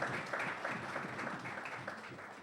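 Steady, moderate applause from an audience at a youth awards ceremony in St. Kitts and Nevis, a continuous wash of clapping heard at some distance for a couple of seconds.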